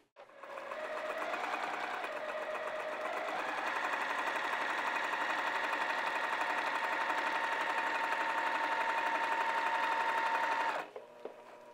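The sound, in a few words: sewing machine stitching a flannel tunic seam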